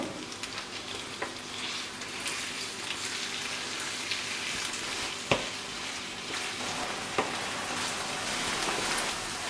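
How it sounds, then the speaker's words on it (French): Minced meat browning in a pan over medium-high heat for hachis parmentier, a steady loud sizzle with occasional sharp scrapes and taps as it is broken up, no voices. "Je vais rajouter la viande hachée. Donc il faut la faire dorer et l'émietter en même temps."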